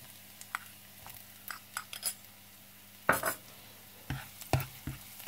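Garlic and shallot go into a pan, heard as scattered close scrapes and clinks of a utensil stirring against the pan, with a faint sizzle beneath.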